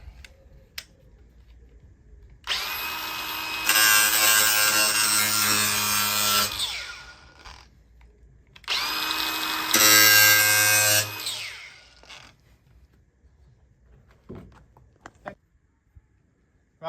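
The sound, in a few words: angle grinder taking edges off metal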